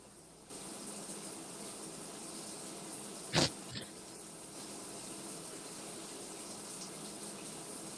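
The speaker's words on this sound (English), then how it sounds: "I like that we can hear Patrick in the shower." A shower running in another room, a steady broadband hiss of flowing water throughout, with a couple of brief sharp knocks near the middle.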